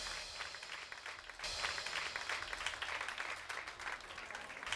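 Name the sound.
applause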